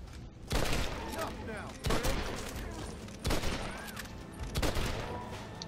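Gunfire from Red Dead Redemption: Undead Nightmare comes in four loud bursts of rapid shots about a second apart, each trailing off into a ringing echo, with a low game rumble running between them.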